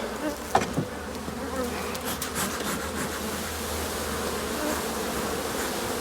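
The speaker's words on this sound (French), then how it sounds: "Voilà, tu vois, les abeilles sont là." Honeybee swarm in Provence, a steady dense buzzing that holds throughout at moderate level, with a few brief louder passes from bees flying close.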